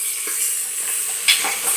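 Sliced onions hitting hot oil in a pan for a home-cooked biryani, giving a steady close sizzle with a brighter crackling burst partway through.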